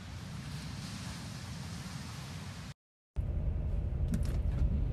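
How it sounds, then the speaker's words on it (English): Ocean waves at a beach give a steady broadband wash of surf with some wind, briefly cut out to silence before resuming, no talk heard. "we're at the beach."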